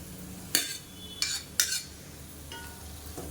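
A spoon scrapes and clinks in a pan as cooked basmati rice is mixed into a fried spice mix, several short distinct strokes close by with quiet pauses between them.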